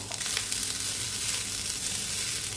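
Grated coconut roasts in a pan for ukadiche modak filling, giving a steady, close sizzle with faint stirring scrapes and no talking.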